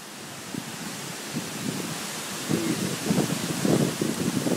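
Strong hurricane wind during Hurricane Irene, a steady broadband roar with gusts swelling louder toward the end, outdoors and continuous with no talk.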